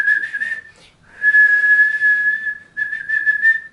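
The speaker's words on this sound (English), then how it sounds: "Can you whistle? A little." Someone whistles a simple tune in a few sustained, wavering phrases separated by short breaths, close to the microphone and fairly loud, with no talking.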